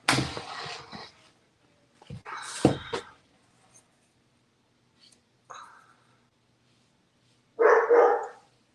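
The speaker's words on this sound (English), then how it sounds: "Let him bark." A dog barks indoors in short sharp bursts, a few loud volleys separated by quiet pauses, with faint hushed speech in between.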